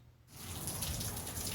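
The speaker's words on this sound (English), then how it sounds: "Just started raining here this morning" Morning rain outside sets in as a soft, steady patter of drops that swells after a quiet start and holds faintly and evenly.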